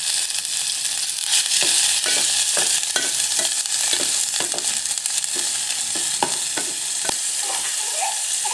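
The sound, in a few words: chicken sizzling in melted butter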